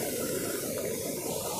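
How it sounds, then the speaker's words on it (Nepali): Rain-swollen Bhainsi Khola river rushing in flood, a dense, steady roar of water close by and unbroken throughout. "यो त भयो यो भैँसी खोलाको पानी"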